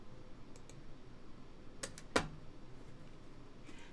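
Computer mouse clicks while a folder is selected on screen: two sharp, quiet clicks close together near the middle, over faint room hum with no talking.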